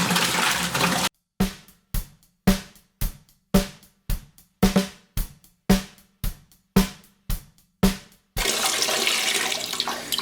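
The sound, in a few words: water pouring into a bucket for mead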